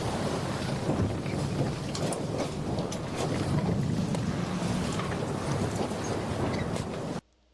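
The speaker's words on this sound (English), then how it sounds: "Loud ass ship sailing." A ship under sail gives a loud, continuous broadband roar of wind and rushing water, steady throughout before cutting off abruptly near the end.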